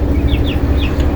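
Seven-day-old chickens on a poultry farm give several short, high chirps and clucks over a constant low hum of the flock.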